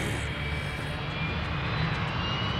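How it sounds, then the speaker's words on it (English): An airplane drones steadily overhead in the video game Dead Rising 3, a continuous broad engine roar at moderate level with no talking over it. "And an airplane's coming."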